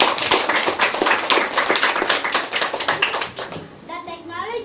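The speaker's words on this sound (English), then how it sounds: "A round of applause, please." Audience clapping for a moderator at a school class debate event, dense and steady for about three seconds before thinning out, with children's voices audible near the end.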